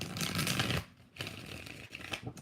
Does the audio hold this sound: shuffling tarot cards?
yes